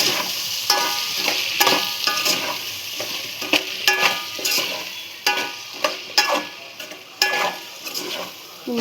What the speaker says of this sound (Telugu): ఇవన్నీ కొంచెం బాగా మిక్స్ చేసుకుందాం.